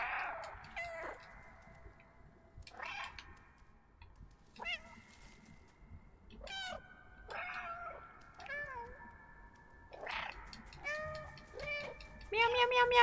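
Cats in the video game Stray meow repeatedly in clear, separate calls, some drawn out and wavering, a few rising sharply, spread over a quiet outdoor scene with moderate, steady loudness.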